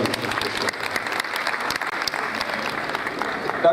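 A large audience at a medical graduating class induction ceremony claps continuously, a thick even roar of many hands that holds steady without pause.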